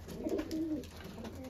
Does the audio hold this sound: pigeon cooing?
yes